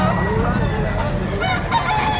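Chickens and roosters cluck and call together at a poultry market in Padre Garcia, Batangas, a steady mix of overlapping bird sounds with faint crowd noise underneath.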